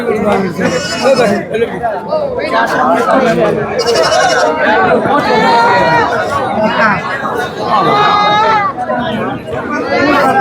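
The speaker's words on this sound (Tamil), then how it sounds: "செம்மறி வளர்ப்பு குட்டி ரொம்ப நாளைக்கு அப்புறம் மறுபடியும் கொண்டு வந்திருக்காங்க" Sheep lambs bleating repeatedly amid a busy livestock market at Ranipettai, with many people chattering throughout and overlapping the wavering animal calls.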